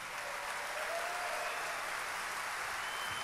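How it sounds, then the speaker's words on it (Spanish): A church congregation gives a loud, sustained round of applause during a Spanish-language worship service, a dense continuous wash of clapping from many hands at steady volume throughout. "Dale un fuerte aplauso al Rey de Reyes y al Señor de Señores."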